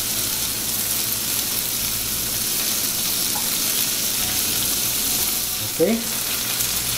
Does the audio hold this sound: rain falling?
no